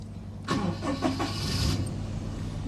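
A Daihatsu car engine cranks and catches, a burst of starter noise settling quickly into a steady running idle, close by and alone.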